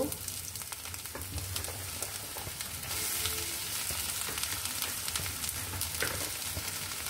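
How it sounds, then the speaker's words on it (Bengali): Chopped onion fries in oil in a pan with a continuous close sizzle and light stirring scrapes. The hiss grows denser partway through, with no voices. "এখন দিয়ে দিব পেঁয়াজ কুচি, পেঁয়াজটাকে একটু নেড়ে নিয়ে নরম করে নিব।"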